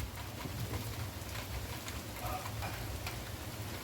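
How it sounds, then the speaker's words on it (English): Steady rain falling outdoors, a dense continuous hiss with scattered drop ticks, close and moderately loud, no voices. "And there comes the rain."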